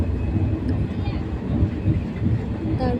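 A passenger train rumbles steadily nearby at a station with a continuous low roar, and faint voices murmur in the background.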